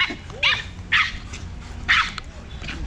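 A dog barks several times in sharp bursts close by, with whimpering yips in between.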